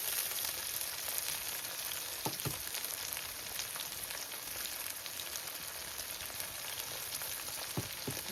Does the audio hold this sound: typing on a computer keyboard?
no